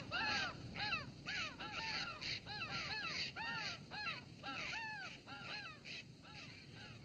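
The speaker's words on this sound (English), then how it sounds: "The jays and the crows squawk at us when we pass." Jays and crows squawk and caw in quick repeated bursts, harsh rasping calls overlapping at close range, over a low outdoor background with no speech.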